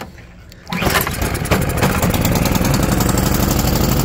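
A Power Max small engine cold-starts on choke. After a short quiet moment it catches suddenly and settles into a loud, steady, close-up running drone.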